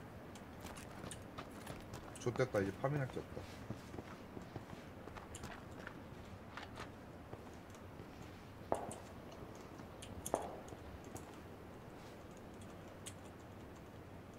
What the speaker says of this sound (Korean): 제 근처에 발소리.